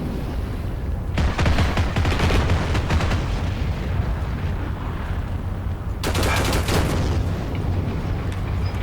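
Bursts of gunfire from the Heroes & Generals shooter, two loud dense stretches of rapid full-auto shots with quieter single shots and battle noise between them, no talking.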